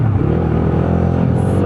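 A modified Bajaj Dominar 250 motorcycle engine revs loud and close, a rough, throaty exhaust roar that holds steady throughout.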